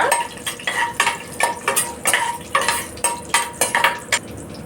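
Dried red chillies stirred in a metal pan while cooking a coconut and chana dal curry: repeated sharp scrapes and clinks of a utensil against the pan in a steady rhythm, close and clear, with faint sizzling underneath.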